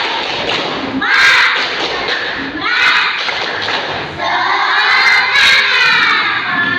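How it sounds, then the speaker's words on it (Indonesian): Schoolchildren in an Indonesian classroom loudly do a rhythmic spirit-clap chant, a crowd of young voices shouting together over a series of clap thuds in short bursts. "Kita tepuk semangat dulu ya."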